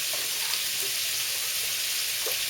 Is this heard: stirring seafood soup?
yes